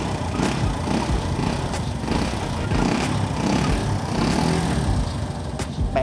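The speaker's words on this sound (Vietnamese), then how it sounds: "Đây là tiếng của chiếc cà phê zin." Brixton cafe racer motorcycle on its stock exhaust idling nearby, a continuous flat, even engine drone with little variation throughout.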